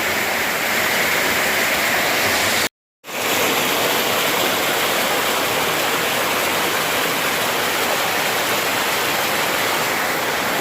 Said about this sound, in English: The edge of the waterfall is right about here.